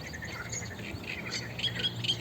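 Eurasian coots calling out in the open, a few squawking notes rising over a steady hum of background ambience, with faint chirps scattered through the short stretch.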